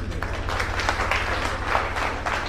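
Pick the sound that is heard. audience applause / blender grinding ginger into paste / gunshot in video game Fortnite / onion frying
audience applause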